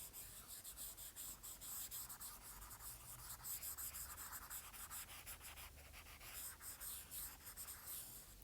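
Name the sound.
erasing writing on a board during a lecture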